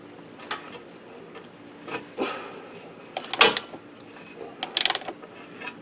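Several short ratchet clicks and creaks come from a wrench working loose a tight automatic transmission drain bolt, arriving in separate bursts of clicking with quiet pauses between them, close up.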